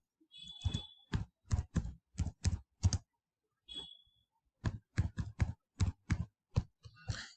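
Fingers type a name on a computer keyboard in close, quiet bursts of crisp key clicks, broken by a brief pause partway through.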